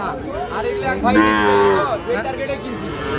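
A bull calf lets out a drawn-out moo up close, with another shorter bellow after it and faint crowd chatter behind at a cattle market.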